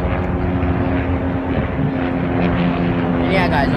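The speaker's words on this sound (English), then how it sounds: "The helicopter right there." A helicopter flies nearby, its engine and rotor making a loud, steady drone that fills the whole stretch without a break.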